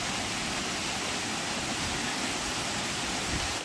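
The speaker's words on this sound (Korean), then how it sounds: "이게 여궁 폭포입니다." Yeogung Waterfall on a mountain trail roars steadily as a dense, broadband wash of falling water, loud and close, unbroken from start to finish with no voices.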